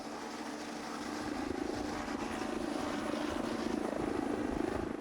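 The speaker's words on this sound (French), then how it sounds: "Ce matin, ce n'est pas en voiture, mais en hélicoptère qu'ils vont patrouiller." A police helicopter on patrol overhead produces a steady rotor and engine drone with a faint rhythmic chop, fairly distant and continuous throughout, with no talk.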